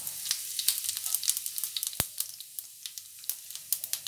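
Whole spices, bay leaf, cumin, green cardamom and cinnamon, crackling in melted ghee, a steady close sizzle dotted with many small sharp pops and one loud snap partway through.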